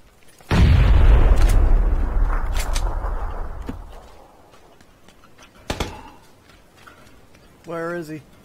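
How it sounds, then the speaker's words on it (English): Grenade blast in the battle-royale shooter PUBG: a loud, close boom with a long rumbling decay over several seconds, followed by a smaller pop, while players talk over the game audio. "that's a grenade"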